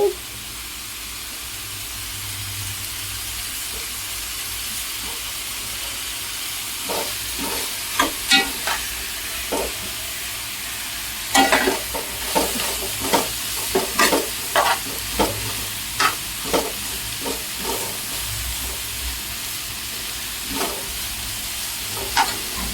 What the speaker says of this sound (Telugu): క్యాప్సికం చక్కగా ఇంకా సిమ్లో ఉడుకుతూ ఉంది